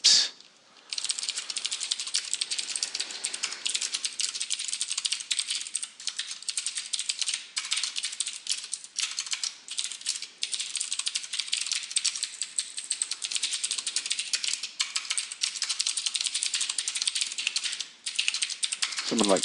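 Rapid, dense clattering of keys on a computer keyboard, nearly nonstop with only brief pauses, close and fairly loud.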